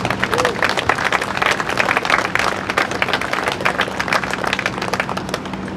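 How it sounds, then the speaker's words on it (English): An audience at a military change of command ceremony claps steadily, dense applause filling the room at close range for several seconds. "Big round of applause for that effort."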